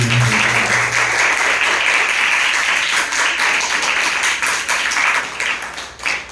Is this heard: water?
no